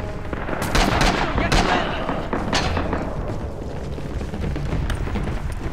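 Gunfire in the WWII shooter Rising Storm, a dense battlefield din of rifle and machine-gun shots with sharp cracks and thuds, several loud close reports early on, steady distant firing throughout.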